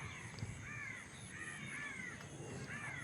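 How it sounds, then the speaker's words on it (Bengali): Crows outdoors give a run of four hoarse caws at an even pace, fairly faint and distant, over steady low ambient noise. "উপরে এদিকে কাক এবং বিভিন্ন পাখির কিচিরমিচির ডাক শোনা যাচ্ছে।"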